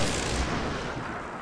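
Units in the fantasy strategy game Myth II: Soulblighter fire on a Shade, with a dense wash of booming, artillery-like blasts and crackling bursts running continuously.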